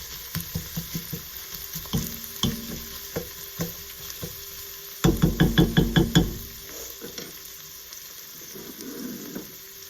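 Ingredients sizzling in rendered fat for keto Zuppa Toscana, with a steady frying hiss under rhythmic utensil taps and scraping against the pan, including a rapid run of clanks midway, heard close.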